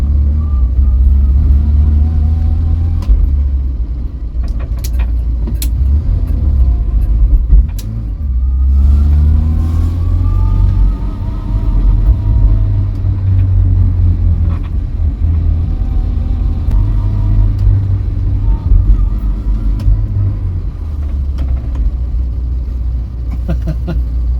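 A Vauxhall Viva barn-find car engine idles and revs in steady low rumbles, with occasional clicks and faint mechanical noises from a clutch that is too tight throughout.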